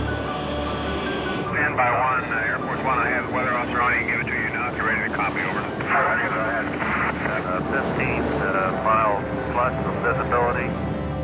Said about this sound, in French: Air Force One, l'avion présidentiel, est en vol pour Dallas, au Texas